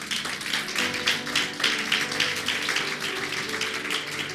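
A church congregation claps in uneven, rhythmic bursts, with sustained musical tones held underneath the applause throughout.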